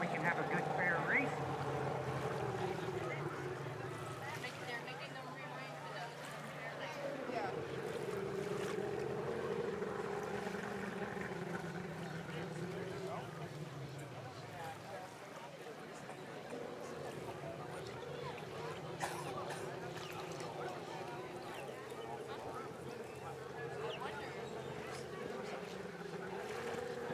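Drag boats race down the lake at a Southern Outlaw Dragboat Association shootout on Lake Placid, Florida, one with a big block Mercury engine, a sustained distant engine roar rising and falling over wind and water while a commentator talks.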